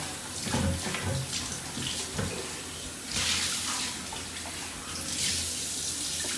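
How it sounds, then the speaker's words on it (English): Water runs steadily from a kitchen tap as a blender is rinsed of almond pulp, a close, continuous rushing splash with slight shifts as the jar moves under the stream, no talk. "I'm just gonna clean the rest of the pulp out of the blender."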